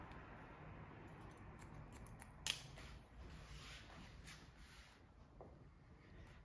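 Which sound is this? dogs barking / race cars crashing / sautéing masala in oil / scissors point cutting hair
scissors point cutting hair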